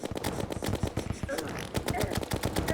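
Rapid gunfire in the video game Terraria, a fast steady run of close, punchy shots repeating for the whole stretch.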